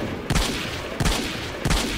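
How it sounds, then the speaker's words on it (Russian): Three heavy gauss gun shots from the S.T.A.L.K.E.R. Lost Alpha video game, each a loud booming crack with a ringing tail, spaced about two-thirds of a second apart. "Да, смотрите, он с гаусс-пушкой."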